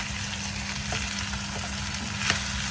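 Peas and chicken fry in a pan with black pepper, giving a loud, constant sizzle and a few light clicks and scrapes as they are stirred.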